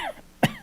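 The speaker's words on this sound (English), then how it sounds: "I got this far with no coughing." A single sharp cough from an adult at a school board meeting, brief and fairly close, standing out against a quiet room with faint voices trailing before it.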